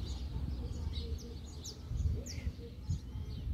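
Coleiro and canário songbirds chirp in the bush, giving several faint, quick high tweets scattered over a low rustling rumble, with soft handling noises nearby.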